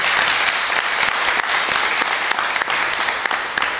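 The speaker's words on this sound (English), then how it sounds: "applause." Audience applause at a public funding announcement event, a steady crowd of hands clapping continuously for a few seconds with no one speaking over it.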